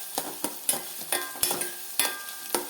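Ingredients being sautéed in a pan for a snack made from leftover idli batter, with a spoon scraping and stirring in quick repeated strokes over a soft sizzle, close and fairly loud, with no talking.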